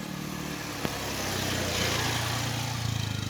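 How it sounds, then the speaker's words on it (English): A motorbike passes close by on a street in Onnut, its engine droning steadily and swelling louder as it nears, then a second engine pulse rising at the end. "Motorbike coming, hold on."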